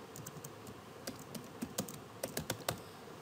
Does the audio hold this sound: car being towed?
no